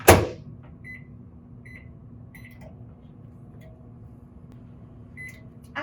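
A microwave oven runs steadily while heating mac and cheese in a mug, a low constant hum with faint intermittent beeps or clicks, a sharper knock at the start and another near the end.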